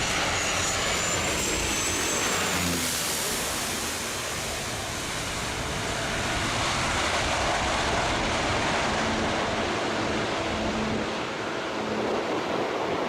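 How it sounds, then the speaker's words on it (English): An airplane coming in very low to land at St. Bart's Airport, a steady, loud broadband engine roar that holds throughout with a faint high whine early on, with no talking. "this plane came in very low at St. Bart's Airport"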